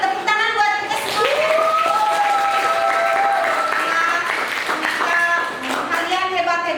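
Classroom of children clapping together during a primary-school lesson, a steady burst of applause lasting several seconds with children's high voices calling out loudly over and through it.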